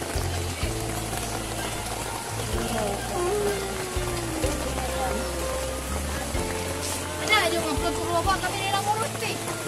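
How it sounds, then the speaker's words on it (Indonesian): Heavy rain falls around a hut near the water in a Dayak farming settlement. It makes a steady, dense hiss throughout, under a voice speaking close by. "Hujan deras."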